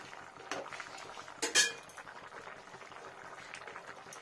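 A potato, pea and paneer curry simmering in a pot, a quiet bubbling murmur broken by a brief clink of a utensil against the vessel.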